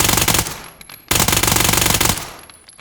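Suppressed automatic gunfire from a modded weapon in Ready or Not crackles in two rapid bursts separated by a brief pause, loud and close, with no talk.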